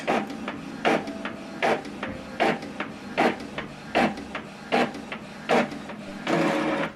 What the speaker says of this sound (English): This document is copying black and white.